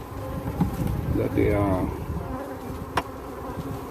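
Bees buzz at a hive in a soft, steady drone beneath someone talking nearby, with one brief sharp knock.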